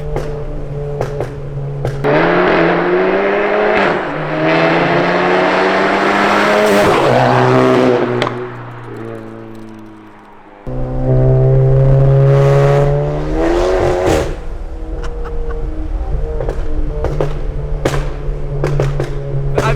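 Stage 2 tuned, air-bagged VW GTI driven hard, its engine revving up through the gears with rising pitch, a brief lift-off dip, then another loud pull and sustained high revs, close and powerful throughout.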